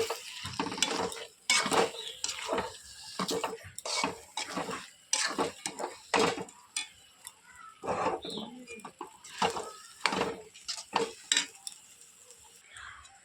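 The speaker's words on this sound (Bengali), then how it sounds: "দেখো আমি এটাকে একটু নেড়ে চেড়ে নিই।" Meat masala curry is stirred in a pan, producing a rapid series of sharp spatula scrapes and knocks against the metal in uneven rhythm over about a dozen seconds.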